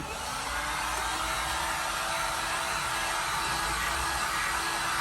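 A heat gun or hair dryer blows a steady, loud whooshing roar as it preheats holster-making foam, continuous and close for the whole stretch with no breaks.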